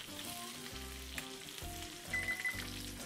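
Thick and thin pieces of fish fry in butter and oil in a pan over fairly high heat, a steady close sizzle and crackle with no talking.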